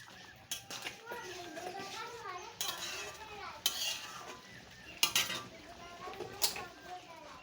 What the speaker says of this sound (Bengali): দিয়ে ভালো করে মিশিয়ে নেব